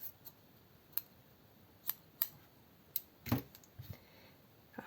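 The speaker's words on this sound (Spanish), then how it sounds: "Podéis utilizar las tijeras porque no va a quedar el pelo suelto" Scissors snip hair for a handmade craft doll, several sharp, close, isolated clicks spaced irregularly, one heavier cut near the end, in an otherwise quiet room.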